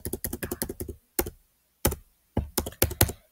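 Python code is typed on a computer keyboard in quick clusters of close, crisp key clacks, broken by short pauses, with no talk.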